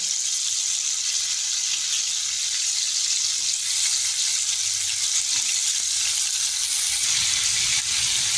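Prawns frying in hot oil give off a continuous, even hiss of sizzling at close range, with no stirring accents and no voices.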